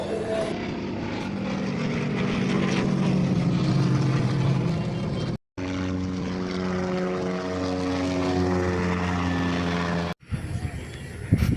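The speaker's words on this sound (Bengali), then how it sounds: "পাশেই যশোর এয়ারপোর্ট থাকায় কিছুক্ষণ পর পর প্লেন হেলিকপ্টারের আগমন দেখা যায়" A propeller airplane passes over a park next to Jessore airport. Its loud, steady droning hum has a strong tonal whine and holds for several seconds, broken by two short cuts.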